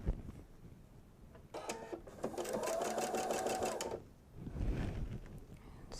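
A sewing machine stitches fabric for a bench pillow in one continuous mechanical run of about two seconds, close by, with quieter handling noises and faint talk before and after it.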